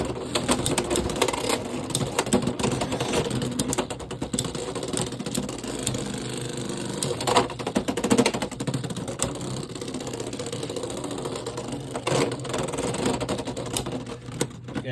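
Beyblade X spinning tops whir and grind continuously in a battle stadium, a dense, steady rattling buzz with sharper clacks of collisions throughout.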